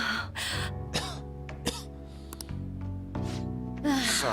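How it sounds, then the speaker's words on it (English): A character in the video game Persona 5 coughing and clearing the throat repeatedly in harsh bursts, with background game music underneath. "I can't stop coughing."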